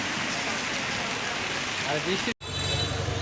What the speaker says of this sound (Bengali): তো দেখতে পাচ্ছেন বৃষ্টি হইতেছে